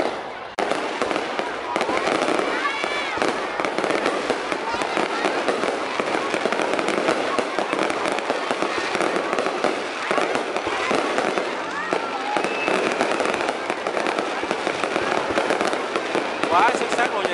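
Fireworks burst continuously over a riverside city celebration in Long Xuyen, a dense, loud barrage of crackling explosions that runs the whole clip with crowd noise and voices underneath.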